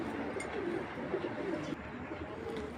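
A Giribaj pigeon cooing close by in soft, repeated low rolling coos against a steady background hiss.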